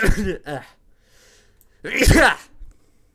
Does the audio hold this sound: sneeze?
yes